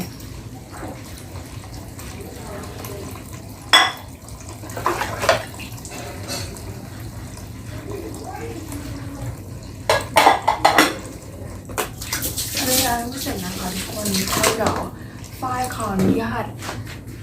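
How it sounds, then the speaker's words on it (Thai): Dishes clatter and clink under steady running tap water, with occasional louder knocks of plates and cutlery; a person talks throughout. "ไปล้างจานให้เสร็จก่อนนะคะ"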